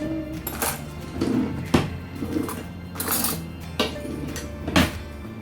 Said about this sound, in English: So I'm just gonna get a spoon to mix them.